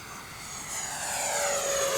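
A Freewing 64mm F-14 Tomcat RC jet with high wing loading flies past, giving a steady, moderately loud whine that slowly rises and swells as the model approaches, with no voices.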